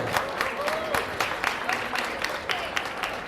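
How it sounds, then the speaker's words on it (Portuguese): Audience applause for chef Cris Valeije at a cooking demonstration, a steady patter of claps with some voices and a brief tonal whistle through it. "Palmas para Cris Valenche."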